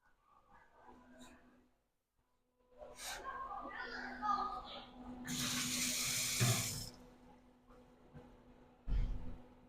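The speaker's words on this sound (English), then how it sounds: "So these, I'm gonna drain the potatoes." Boiled potatoes are drained in a kitchen sink, water splashing and rushing loudly for several seconds, preceded by quieter handling noises and ending with a short final splash.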